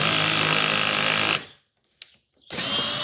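A cordless drill unscrews a bolt while rollers are changed on a Kymco Agility 50 4T scooter, whirring loudly and steadily, stopping for about a second with a faint click, then whirring again.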